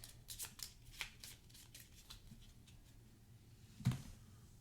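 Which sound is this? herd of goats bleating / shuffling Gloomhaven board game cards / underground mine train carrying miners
shuffling Gloomhaven board game cards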